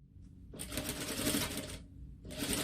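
A sewing machine runs close by as it stitches a normal seam with the bottom fabric layer held slightly taut, in two quick bursts separated by a short pause, with no talking.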